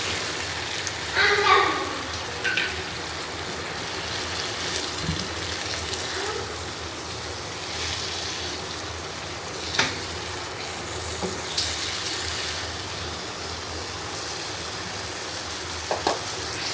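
Vegetables drop into a pan of fried prawns and spices and sizzle with a constant frying hiss, broken by occasional stirring clatter and a voice speaking softly in the background.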